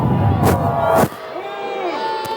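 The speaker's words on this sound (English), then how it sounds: "West Deptford home crowd doesn't like the call." West Deptford home crowd at a high school football semifinal reacting against a referee's call, a loud burst of shouting and booing for about a second before it drops to a lower murmur, with a commentator's voice over it.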